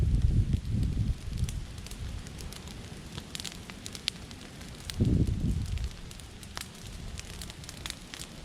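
Prescribed burn moving through dry grass in a field under variable wind, a steady close crackling roar with sharp pops and two louder surges of flame.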